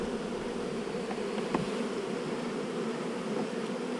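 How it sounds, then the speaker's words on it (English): Dense, steady buzzing of many honey bees swarming around an open hive during frame work, a continuous close drone filling the whole clip with no talk. "we've got all these bees here, guys"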